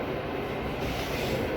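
A steady, loud rumble of a train engine running, with continuous low mechanical drone and rail noise throughout.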